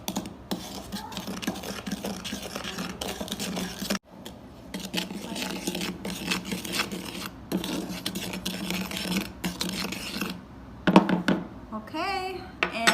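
A gold spoon scrapes and rasps steadily as black salt is stirred in a container, close up, with brief knocks and a voice speaking lightly near the end.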